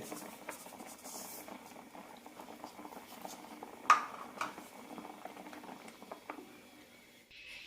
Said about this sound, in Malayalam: അഞ്ചാറ് മിനിറ്റ് ലോ ഫ്ലെയിമിലിട്ട് നന്നായി തിളപ്പിക്കാം